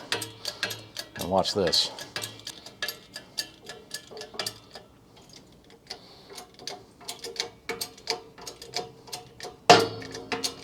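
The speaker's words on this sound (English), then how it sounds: "This is just a socket, and I'm just going to crank this thing down" A socket cranked down on a press pushes rubber leaf-spring bushings out of a 1978 Camaro part, making a run of close, rhythmic ratcheting clicks with a creak partway through. Someone speaks briefly over it.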